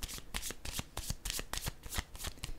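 Tarot cards shuffled in quick, steady riffling bursts, close and crisp, with an even rhythm of many short card flicks and no talking.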